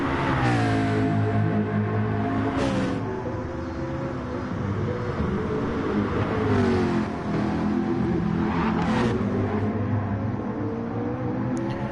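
A Peugeot race car engine roars continuously through a sim-racing league event, with rising and falling revs and gear changes, loud and close, with no talk over it.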